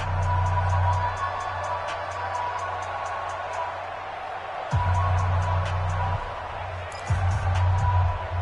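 Stadium crowd in a football video game swells with cheering ahead of a big third down, a broad steady roar under game commentary that rises in a couple of surges.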